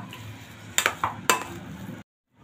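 Vada pav potato masala being mixed by hand in a bowl, with a few soft clinks and scrapes against the dish over a low background hum, ending abruptly.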